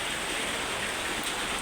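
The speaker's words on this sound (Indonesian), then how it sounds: "Itu hujan ya teman-teman ya, ya namanya musim hujan ya" Rain during the rainy season falls steadily on a roof at a truck transmission repair workshop, a dense, loud, unbroken hiss with no talking.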